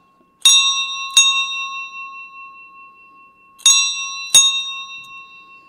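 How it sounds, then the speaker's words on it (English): A bell rings in two pairs of clear strikes, each tone ringing on and fading, with a pause between the pairs. "you heard the bell ring twice"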